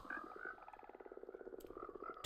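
Frogs croak in a video game, a soft rhythmic chorus of quick repeated croaks pulsing steadily, fairly faint, ending with a brief sharp click.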